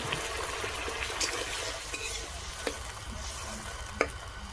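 Water poured into a pan of frying potol and potatoes, a steady close sizzle with bubbling liquid and a few sharp clinks of a utensil against the pan, no voices.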